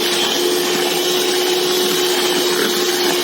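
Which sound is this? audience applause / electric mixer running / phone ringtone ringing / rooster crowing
electric mixer running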